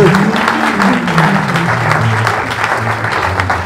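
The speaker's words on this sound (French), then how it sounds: "Acclame Jésus-Christ de Nazareth. Acclame Jésus qui a vaincu" A church congregation at an evangelism campaign service applauds, dense, loud clapping sustained throughout from a large crowd, with voices mixed faintly into the sound.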